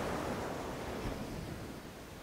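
Ocean surf on a beach makes a steady, even wash of breaking waves that rolls on without pause and fades slightly toward the end, with no voices.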